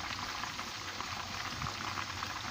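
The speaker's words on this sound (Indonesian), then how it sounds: "Tengah menggoreng lagi." Tandoori chicken pieces frying in a pan, a steady dense sizzle and bubbling of hot oil, close and continuous with no voices.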